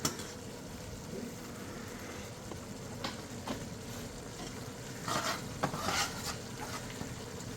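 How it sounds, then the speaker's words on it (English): Okra soup ingredients fry and sizzle softly in oil in a pot, a steady low crackle punctuated by scraping stir strokes, which grow busier toward the end. "So melt it and mix it with the oil there properly"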